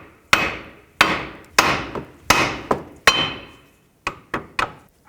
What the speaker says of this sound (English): Use a hammer, hit the knuckle right here.